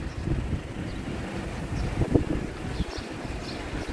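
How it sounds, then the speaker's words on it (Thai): Cool wind blows across an open outdoor area outside a shopping mall, a steady loud rushing buffeting the microphone with low rumble throughout, no voices. "ลมเย็นสบายเลยนะครับ"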